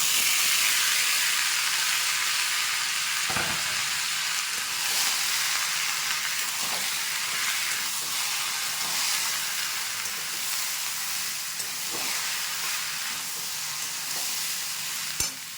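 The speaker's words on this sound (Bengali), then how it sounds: "এবার আমি সেদ্ধ ছোলাটা আর আলুটা দিয়ে দিচ্ছি।" Boiled chickpeas and potato frying in a ginger-garlic masala for chola bhuna, a dense, continuous hiss and sizzle throughout with a few faint scrapes of stirring, no voices.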